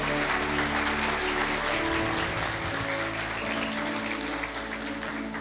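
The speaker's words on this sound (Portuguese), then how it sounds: "Eu gostaria que você aplaudisse o Senhor por isso" Sustained applause from a church congregation during a live worship service, dense and steady throughout, with a low hum underneath.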